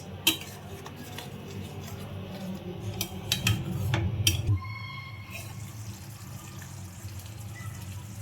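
A spoon clinks against a pot while salt is stirred into paneer yakhni gravy. Scattered metallic taps and scrapes sit over a low simmering bubble, with a busier stretch of stirring before it settles into a quieter, steady simmer.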